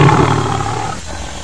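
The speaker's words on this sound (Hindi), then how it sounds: "भीम दहाड़ा," A lion roaring loudly and close, one long deep sustained roar that fades slightly toward the end, alone with no other sounds.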